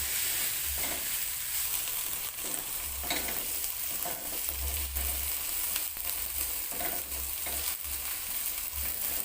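Spice paste sautéing in a pan: a steady, close sizzle and crackle of frying throughout, with occasional scraping and stirring strokes, and no talk.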